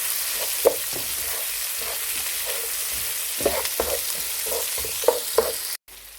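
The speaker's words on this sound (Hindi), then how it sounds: "और साथ ही जीरा ऐड कर लेंगे, और इसको अब हम 2-3 मिनट तक स्टर फ्राई करेंगे।" Cumin seeds and onion stir-frying in a hot pan, a steady close sizzle broken by scattered scraping and clinking as a spoon stirs, with no talking.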